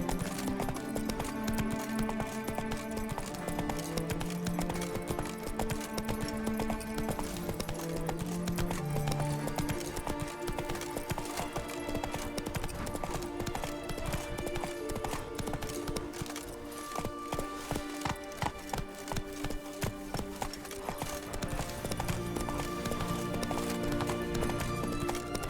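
Roach, a horse in The Witcher 3, trots with a steady clip-clop of hooves under a dense bed of game music, with a brief whinny early on; the hoofbeats stay moderately loud and continuous throughout.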